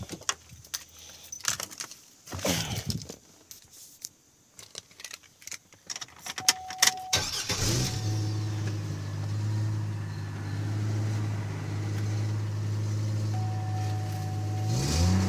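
A 2002 Chevrolet TrailBlazer LTZ is started, with keys jangling and a few clicks and knocks before the engine cranks and catches, then settles into a steady, low idle hum that runs to the end.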